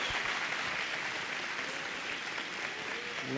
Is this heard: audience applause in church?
yes